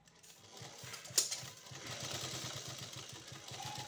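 A sewing machine runs slowly while stitching zari embroidery onto a sleeve, giving a quiet, steady mechanical chatter of rapid even pulses that continues throughout with no talking.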